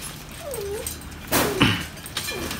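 A Phu Quoc puppy, a young male with brindle tiger-stripe markings, gives a few soft, high whimpers and yips between quiet pauses, close by, with brief handling noise in the middle.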